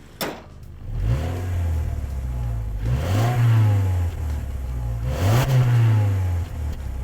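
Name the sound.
2020 Subaru Outback 2.4-liter turbo engine accelerating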